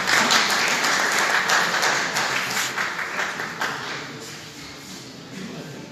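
An audience applauds at a literary gathering, a burst of clapping that gradually fades into scattered claps.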